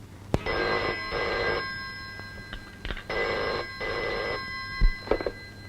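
An old-style telephone bell rings indoors in repeated double bursts with short pauses between them, moderately loud and clear, with no voices during the rings.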